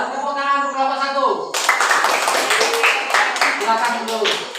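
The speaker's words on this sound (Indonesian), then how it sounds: "Tepuk tangan untuk kelompok 1." An elementary school class claps for a student group, starting after a sustained tonal sound and continuing as a lively crowd of hand claps for about three seconds, with voices mixed in.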